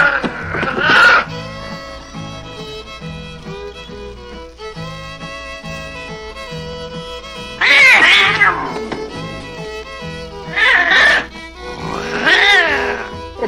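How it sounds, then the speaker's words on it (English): A cat meows and caterwauls in several loud, drawn-out bursts over a steady sustained musical backing, the cries recurring near the start and in a cluster toward the end. "It's a fucking cat."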